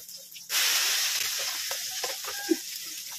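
Sudden loud sizzle as food hits hot oil, then a steady crackling hiss with small pops and spatters continuing.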